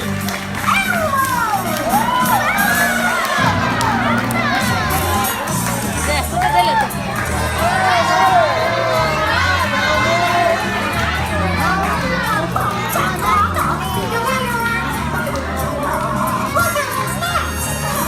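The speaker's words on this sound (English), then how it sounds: "put your hands together and let's hear some applause for the star of our show" A young crowd at a live Elmo show at Disney World erupts in cheering, shrieks and excited shouting, a loud, dense wall of children's voices with a steady musical backdrop running underneath for the whole stretch.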